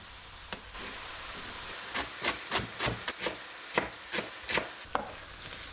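A knife slices a halved leek thinly on a cutting board, giving a steady run of about a dozen close, crisp cuts over a faint sizzle from a pan.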